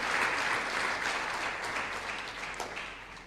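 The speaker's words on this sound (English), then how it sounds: "May we please give him another round of applause?" Loud, steady applause from a large crowd of delegates at a formal address fills the whole stretch, many hands clapping together and slowly tapering off toward the end.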